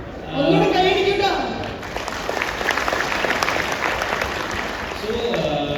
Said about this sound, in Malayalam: ഒന്നുകൂടെ കൈയടിക്കട്ടോ.